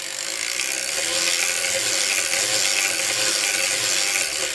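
A hand-cranked circular sock knitting machine gives off a steady dense mechanical ratcheting clatter. The sound runs continuously and loudly at close range.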